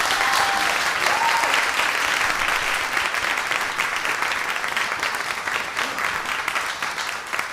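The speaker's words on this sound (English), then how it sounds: "Please just give a huge round of applause to each of our panelists" A big round of applause from a media industry conference audience for the panelists, loud and close, a thick continuous roar of clapping that stays strong throughout and eases only slightly near the end.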